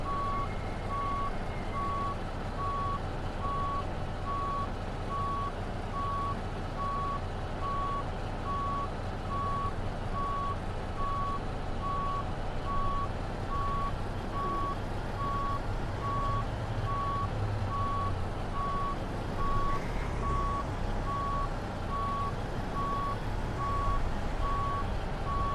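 Truck backing up to line up its trailer, a steady regular series of reversing beeps repeating over the low rumble of the idling engine, no talk.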